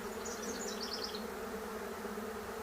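A swarm of honeybees buzzing outdoors, a steady, dense hum that holds level throughout, with faint higher whines from individual bees passing nearby and no voices.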